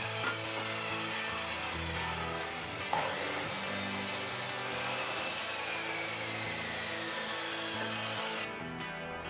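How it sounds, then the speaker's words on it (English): A mitre saw set at a 15-degree angle cuts through wooden ladder slats for a tiny house loft ladder, giving a loud, steady whine and grinding roar that runs almost unbroken for about nine seconds before cutting off at the end. "On the mitre saw, I set the angle to 15 degrees and then cut the bottom of the ladder"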